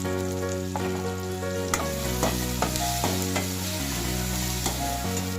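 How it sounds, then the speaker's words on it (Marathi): Tomato frying with salt and turmeric in a pan, a constant close sizzle broken by repeated scraping stirs every second or so, no talking. "हा टोमॅटो मऊ होईपर्यंत परतून घेत राहायचा"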